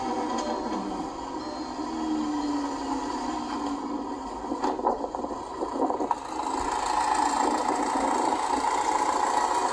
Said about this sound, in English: This is the golf starting up.